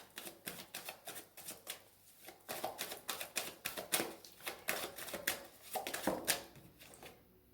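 Oracle cards being shuffled by hand: a quick, uneven run of papery riffles and soft slaps, close and moderately quiet, with no voices.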